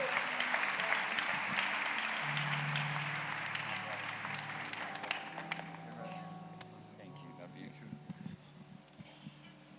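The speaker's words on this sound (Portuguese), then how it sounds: "Vamos recebê-lo com uma salva de palmas." Church congregation applauding a guest speaker, a broad wash of many hands clapping that fills the room and slowly thins out, with some talk and background music underneath near the end.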